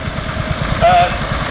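A vintage tractor engine idles at a tractor show, its steady low pulsing chug running through the whole short stretch, with a brief tonal whine rising over it midway.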